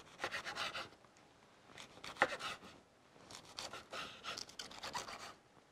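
Artichokes sliced thinly with a knife on a cutting board, a quiet series of soft, rhythmic chopping and scraping cuts heard close up, without talk.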